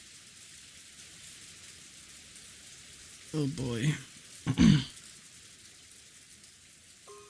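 Steady rain from the visual novel game Umineko no Naku Koro ni, a constant soft hiss running the whole way through, with a man's brief spoken remarks in the middle.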